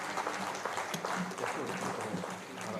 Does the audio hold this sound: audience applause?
yes